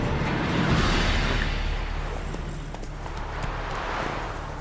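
Horse galloping in The Witcher video game, a soft rolling rumble of hoofbeats under a broad wash of ambient noise, fairly loud and steady throughout.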